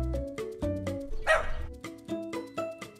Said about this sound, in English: The dogs are playing in the grass.